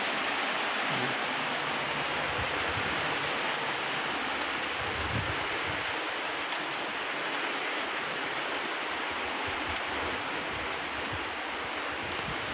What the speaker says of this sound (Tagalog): binagsak na talaga yung ulan.